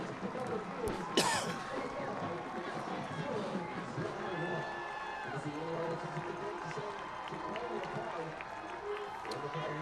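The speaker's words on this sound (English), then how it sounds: "Crowd getting into it." A stadium crowd at a college football game between UAPB and Texas Southern roars and cheers in a late close contest, a broad distant wash of voices with a sharp burst early and whistles, under commentary.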